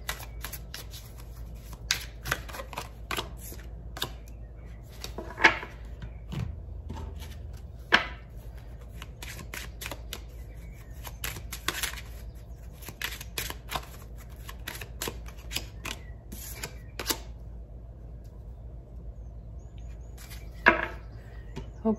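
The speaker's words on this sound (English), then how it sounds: "I'm just pulling the cards already." Tarot cards being shuffled and pulled during a reading, a steady papery riffle with scattered sharper flicks and slaps, close and fairly quiet over a low background hum, with no talking.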